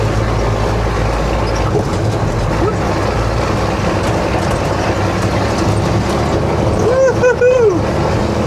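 A Deuce and a half military truck's engine idles after firing up, a heavy steady rumble close by with a brief warbling tone near the end and voices talking over it.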